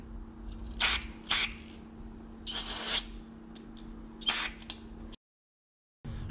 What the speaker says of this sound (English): And take some brake cleaner.